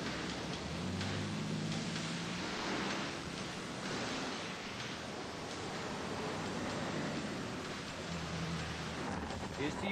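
Steady rain falling on Sunset Boulevard, a dense continuous hiss with a low rumble of traffic underneath, constant in level throughout.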